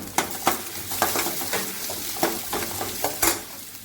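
Asafoetida and ginger frying in hot oil for Bombay kulambu, a steady soft sizzle punctuated by several sharp scrapes and taps of a spoon stirring in the pan, with no voices.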